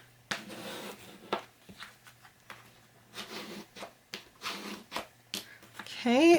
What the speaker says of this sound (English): Go over it with your bone folder.